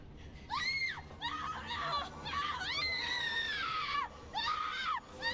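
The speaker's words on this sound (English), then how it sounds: "Did she just scream?" A woman screams in the Resident Evil Village game, Shadows of Rose winter expansion DLC, with a string of loud, shrill, wavering cries and whimpers in rapid bursts, close and with no talk over them.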